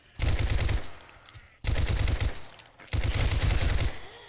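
An Uzi submachine gun fires in the survival game 7 Days to Die, in three loud rapid bursts of about a second each with short gaps between them.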